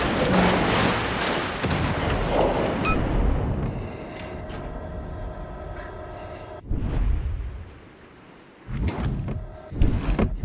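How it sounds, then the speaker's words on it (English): Naval gunfire from a cruiser in World of Warships Legends: deep booming salvos with rumbling tails over a continuous engine and sea drone, several heavy blasts near the end. "He's taking some shots, switching over to HE now."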